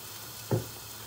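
Chopped onions hit a hot pan with a sudden sharp sizzle that quickly settles into a faint, steady frying hiss, close by and quiet.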